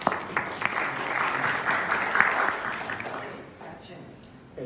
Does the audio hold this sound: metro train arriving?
no